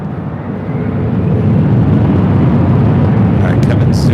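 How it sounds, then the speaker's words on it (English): An EVA Air Boeing 777-300ER arriving from Taipei on final approach to runway 24 left at LAX, a loud, steady, broadband jet roar that builds slightly and holds, heard close and continuous. "So we zoom in to EVA Air Flight 12, the 777-300ER coming in from Taipei."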